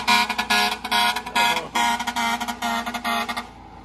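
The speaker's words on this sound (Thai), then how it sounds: "ผมชอบเสียงแตรเขามากครับแตรรถพ่วงแต่ละคันนี่ดังดีกว่าผมอีกนะฮะ" A loud trailer truck horn blares in a rapid series of repeated honks, pulsing rhythmically and close by, ending abruptly; the truck is hauling steel.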